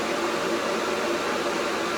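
A loud plug-in kitchen smoke extractor fan runs with a steady, dense whooshing drone that stays constant throughout, close by with no voices.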